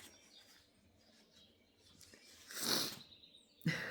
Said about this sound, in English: I'm going to listen to these birds some more in the quiet.